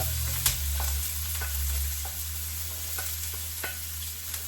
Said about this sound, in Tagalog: So, ito ngayon, gisa-gisa tayo.